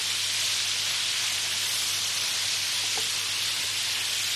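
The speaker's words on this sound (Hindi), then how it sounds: "बस हमें इसको जल्दी जल्दी स्टर फ्राई करना है" Beef dry chili stir-frying in a hot pan with soy sauce and vinegar: a steady, loud, broadband sizzle like hissing rain, unbroken for the whole stretch with no talk.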